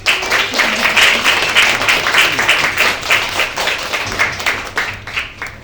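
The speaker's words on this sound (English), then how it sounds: "Can we get another round of applause?" Audience at a poetry lounge claps loudly and continuously, a dense close patter of hands that slowly tapers and becomes sparser near the end.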